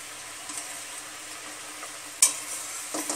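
Bhola vetki fish pieces go one by one into a hot pan with oil, a steady soft sizzle with a sharper splattering burst midway as a piece hits, no talking.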